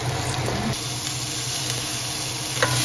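Pinakbet vegetables stirred in a hot pan, giving a steady close sizzle broken by the soft scrape of a utensil, with no voices over it.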